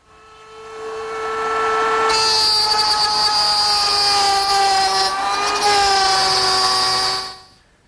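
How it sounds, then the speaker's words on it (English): A router on a table cuts a groove into wooden stiles and rails for a pie safe cabinet. It spins up steadily, then bites into the wood with a loud, sustained high whine for about five seconds before winding down. "Now, I'll make the groove over on my router table."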